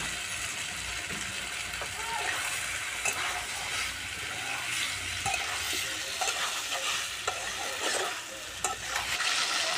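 Fried jackfruit and potato go into a pan of oil and cooked-down spices, sizzling steadily with scraping stirs and clinks from the utensil throughout.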